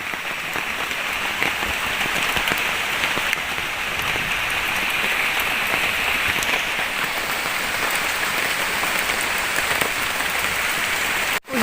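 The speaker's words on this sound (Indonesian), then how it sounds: "Hujannya makin deras banget, terus dia kayak berkabut gitu" Heavy rain pours steadily in a forest, a loud, dense, continuous hiss of drops on leaves and surfaces, unbroken until a sudden thump right at the end.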